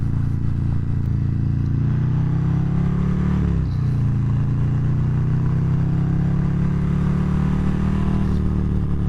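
Harley-Davidson Fat Bob 117 motorcycle with a Stage 3 engine, 2019 model, revs hard while accelerating, a loud continuous low rumble that climbs in pitch, dips briefly near the middle on a gear change, then builds again, close and steady with no talk.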